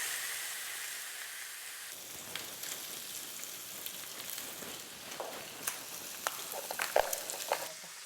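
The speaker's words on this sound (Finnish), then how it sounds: "tekee noin pekonit rapeeksi, paistaa" Bacon frying crisp in a hot pan, a steady soft sizzle with scattered sharp pops and crackles growing busier toward the end, close and fairly quiet with no talk.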